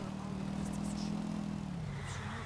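Motorcycle engine in GTA IV, ridden in the rain, holding a steady mid-pitched drone that sags slightly lower near the end, fairly close and continuous.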